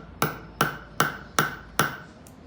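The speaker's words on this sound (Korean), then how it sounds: "이거를 이렇게 거꾸로 해서 망치로 새겨주는 거예요." Letter stamps struck with a hammer into a metal bracelet: five crisp, evenly spaced metallic blows about every 0.4 seconds, close and clear with nothing else audible.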